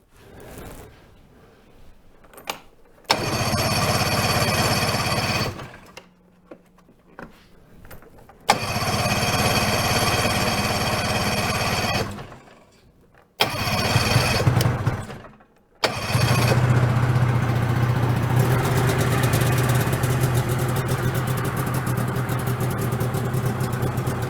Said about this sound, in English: right now I'm just going to use this to jumpstart my snowmobile